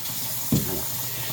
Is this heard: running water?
yes